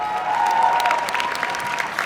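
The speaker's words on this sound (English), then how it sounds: "Let's give him another round of applause." An audience at a student academic excellence awards ceremony claps in steady, even applause, a dense patter of many hands filling the hall.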